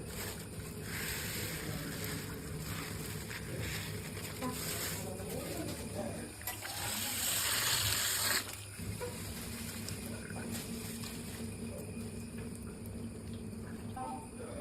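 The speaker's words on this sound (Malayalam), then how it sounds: "അപ്പൊ അത് നമുക്ക് എള്ള് കഴുകി വൃത്തിയാക്കി എടുക്കാം." Sesame seeds being washed in water for ellu unda: continuous sloshing and swirling liquid with a louder splashing surge midway, steady and close throughout.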